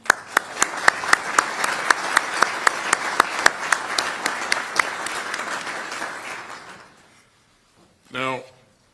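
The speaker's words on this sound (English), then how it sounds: "Let's give them all a round of applause." Applause from an audience at a US defense secretary's opening address to allies at a military base in Germany, loud and sustained with sharp individual claps, fading out, followed by a brief voice.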